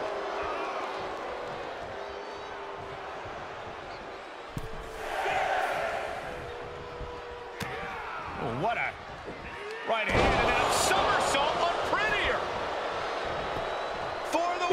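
A wrestling crowd cheers and roars in the video game WWE 2K24 as a wrestler plays to the fans, a steady arena din that swells in bursts, with a commentator talking over it.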